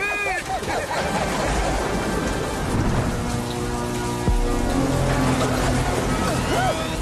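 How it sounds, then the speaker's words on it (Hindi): Steady rain with rumbling thunder in a Motu Patlu cartoon scene, the downpour hissing throughout and a sharp thunder crack near the middle, while cartoon voices speak over the storm. "अब तो तुम्हारे साथ रोने के लिए बारिश भी आ गई।"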